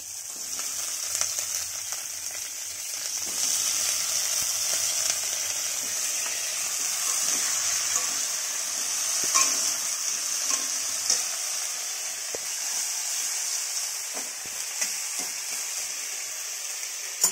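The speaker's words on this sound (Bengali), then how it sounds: "এবার ফুলকপিগুলো ভেজে নেব, তেলে ভেজে নেব ফুলকপির ডালটা।" Cauliflower pieces fry in oil with a steady, bright sizzling hiss that holds throughout, broken by occasional soft taps and scrapes of stirring.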